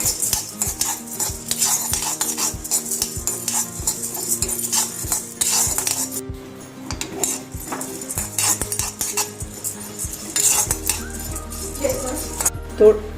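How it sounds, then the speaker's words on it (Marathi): Chana dal is being dry-roasted in a pan while a metal spoon stirs it, giving repeated close scraping and clinking against the pan with a soft sizzle underneath. "चण्याची डाळ जरा गरम करून म्हणजे थोडीशी भाजून घ्यायची आहे."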